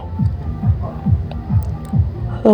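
A sewing machine stitches a half-inch seam on petticoat fabric, its motor throbbing in steady repeated bursts about every half second, close and fairly loud, with no talk.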